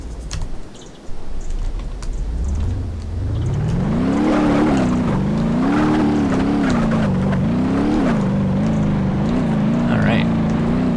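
Car engine in BeamNG Drive revving and droning from an interior view, rising from low idle into a steady, wavering drone that climbs and dips with throttle over about ten seconds, fairly loud with faint clicks on top.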